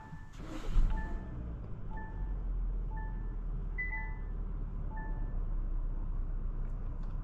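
A 2025 Kia K5 GT-Line with a 2.5-liter four-cylinder cruises along, its steady low road and engine rumble running throughout while a soft two-tone chime repeats about once a second.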